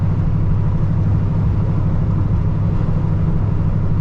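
A 1985 Chevrolet El Camino with an LS3 V8 and a four-speed automatic drives along with a steady, deep engine rumble, heard from inside the cabin with no voices.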